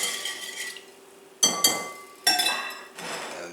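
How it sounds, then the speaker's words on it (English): A whisk clinks against a glass bowl while yeast is dissolved, giving a few sharp ringing taps and short scraping strokes, close and fairly quiet. "first we're going to whisk the yeast to dissolve it"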